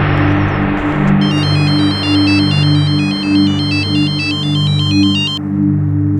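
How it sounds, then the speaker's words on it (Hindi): An incoming call rings on a phone as a repeated electronic ringtone, steady and fairly loud, over a constant low background hum. "अम्मी वो मीनाज के अनाथ आश्रम से फोन आया था, उनको आपसे बात करनी है अभी।"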